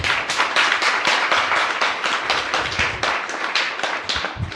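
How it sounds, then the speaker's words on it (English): Audience at a Cache County council meeting breaking into sustained applause, dense steady clapping from many hands filling the room for several seconds without talk. "I didn't expect the clap"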